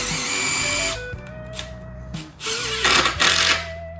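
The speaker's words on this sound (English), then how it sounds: "Go ahead and start my screw." Power drill driving a screw into the wood of a simple workbench build, with a steady whirring motor for about a second, then quieter intermittent bursts and a louder final spin near the end.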